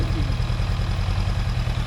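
A motorcycle engine idling with a steady low, rapid thumping pulse, close and continuous for a couple of seconds.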